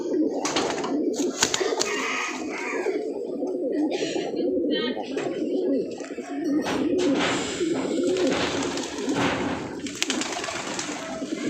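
Rat checker pigeons coo in deep, throaty bursts while a pair squabbles and flaps nearby, the calls close and repeated in uneven rhythm under someone talking over them.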